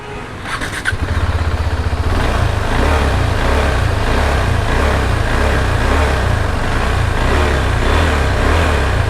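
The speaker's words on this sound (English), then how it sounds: "Let me start the motorcycle." A 2020 KTM 390 Adventure motorcycle engine cranks and fires up, then settles into a loud, steady rumbling idle with slight revving, close by and continuous.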